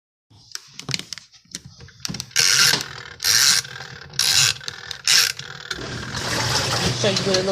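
A small portable washing machine starts agitating a load of laundry, with clicks and mechanical clunks followed by bursts of loud whirring churning and then a steady motor hum.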